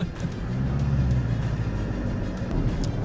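Mitsubishi L200 pickup speeding up over rough off-road ground in mountainous terrain, a loud low engine roar with rumbling body and tire noise building briefly.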